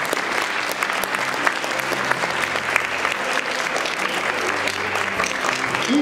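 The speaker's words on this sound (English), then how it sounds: "I want everybody to give themselves a round of applause." Students and audience clapping at a school achievement assembly, dense steady applause filling the hall with faint crowd murmur underneath.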